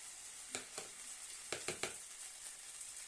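Grated potato for deruny, Ukrainian potato pancakes, is laid into a frying pan. A faint, low hiss sits under a few soft, quick scrapes and taps, quiet and close.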